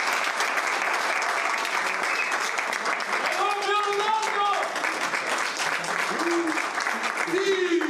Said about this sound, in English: another round of applause to our great player and star, Cristiano Ronaldo.